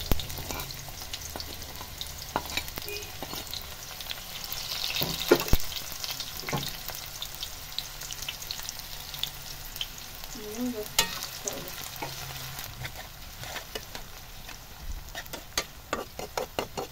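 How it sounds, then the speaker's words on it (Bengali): Onions frying in hot oil in a pan, a steady close crackling sizzle running throughout with occasional louder spits and scraping stirs, no voices. "আমাদের তেলটা কিন্তু গরম হয়ে গেছে। এবারে পেঁয়াজগুলো দিয়ে দিচ্ছি।"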